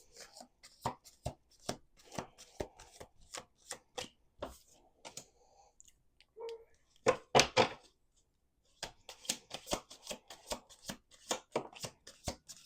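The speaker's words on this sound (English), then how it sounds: "Do 2 more shuffles." A deck of playing cards being shuffled repeatedly at close range, a quick run of sharp riffling bursts, a brief pause, then another loud riffle and more rapid flicking; no talking.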